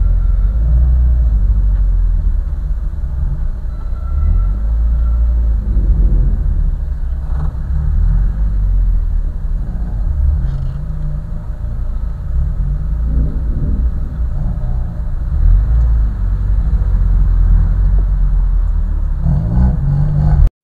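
Honda motorcycles from the 1990s on a club group ride in Rio de Janeiro give a loud, continuous low engine rumble with rising revs that swell and ease throughout.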